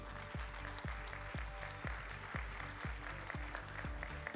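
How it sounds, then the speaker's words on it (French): An audience at a round-table conference on corporate social responsibility and diversity applauds with steady, moderately distant clapping, including a regular rhythmic beat, sustained throughout without voices over it. "Avec vos applaudissements, bien sûr."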